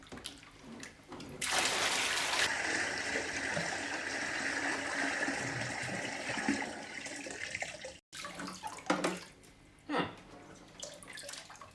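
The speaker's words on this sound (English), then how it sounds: "So now we have rinsed out the EHEIM mechanical substrate" Running water pours steadily over the mechanical filter media of an EHEIM 2080 canister filter being rinsed, a loud continuous splashing rush that breaks off briefly, then returns in uneven gushes and splashes.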